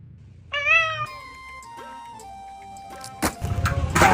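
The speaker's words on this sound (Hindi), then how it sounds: "बिल्ली तंदूर की तरफ भाग रही है" A pet cat meows once, loud and close, with a drawn-out wavering cry, then a short faint call follows before clattering and scraping noises take over near a tandoor.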